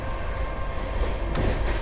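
Rajdhani Express train running between New Delhi and Howrah, heard from inside a first-class AC coach as a steady, close rumble of wheels and carriage noise with faint rattles, no voices.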